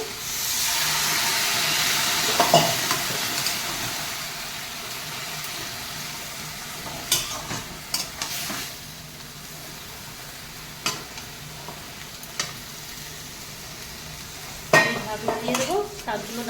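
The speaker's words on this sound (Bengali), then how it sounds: "এবার আমি এই জল ঢেলে দেবো" Water poured into a hot pan bursts into a loud hissing sizzle that fades, followed by scattered scrapes and clinks of stirring, with a fresh sizzling flare near the end.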